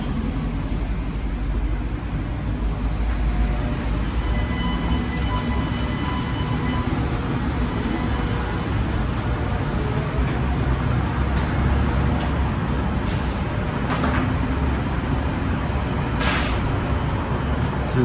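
An RTA streetcar arrives at Union Passenger Terminal in New Orleans with a continuous low rumble of wheels on rail, steady throughout, and a few brief high squeals or clanks near the end.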